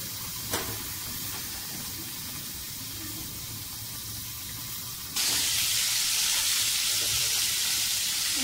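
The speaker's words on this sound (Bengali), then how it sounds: "যে কোনো কিছু ভাজতে গেলে এই যে তেল চিটা ভাবটা আসলে খুব বিরক্ত লাগে, ছিটে ছিটে চারিপাশ ছড়িয়ে পড়ে" Oil sizzles and spits steadily in a pan of frying fish head and potato pieces, a close broadband hiss that jumps noticeably louder partway through and stays strong to the end.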